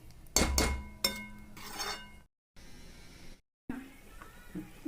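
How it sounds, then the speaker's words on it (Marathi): A lid goes onto a pan of brinjal and dried bombil curry with a couple of close metallic clinks and clatters, followed by quieter kitchen rustling, and a voice talks in places. "आता आपण हे पाच मिनटाकरता वापस झाकून ठेवणार आहोत"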